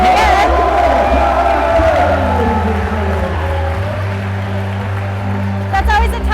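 A crowd cheers and roars for a climber making a final attempt at a USA Climbing competition, a loud, sustained wash of voices with whoops rising near the start and end, mixed with an announcer's talk.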